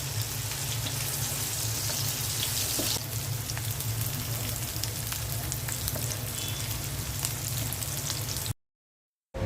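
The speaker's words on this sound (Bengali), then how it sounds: "মাছ ভাজা তেলের মধ্যে পেঁয়াজ দিয়ে দিয়েছি।" Onions sizzle and crackle in hot oil in a home kitchen, with a loud, steady frying hiss that carries on for several seconds before cutting off abruptly to silence.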